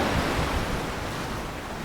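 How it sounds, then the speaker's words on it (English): Mountainous storm waves surge in a storytelling podcast sound effect, a loud, constant roar of surf and wind with no pauses and no voices. "Soon, mountainous waves began sweeping toward the tall tree,"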